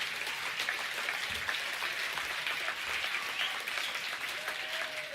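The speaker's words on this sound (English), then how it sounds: "Give me a clap." Steady, dense applause from an audience at a charity awards ceremony, continuous clapping at an even level from start to finish.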